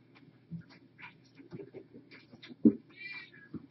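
Several cats meowing while eating bonito flakes at a feline rescue release, short close meows and a longer drawn-out cry, with someone talking softly in between.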